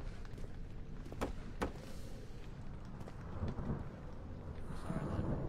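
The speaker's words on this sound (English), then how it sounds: "Sorry, that thunder." Low, rolling thunder rumbles through a dark game setting in Amnesia: The Dark Descent, with a couple of sharp cracks early on and a steady murky roar swelling again toward the end.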